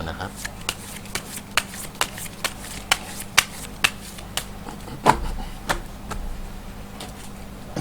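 Tarot cards being shuffled close up during a daily horoscope reading: a steady series of crisp, sharp card slaps and riffles at regular intervals, with low background hum.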